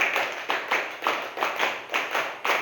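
A class of children plays a call-and-response clapping game in a primary school lesson, slapping hands in regular, sharp bursts of about two per second, loud and close, with no talk.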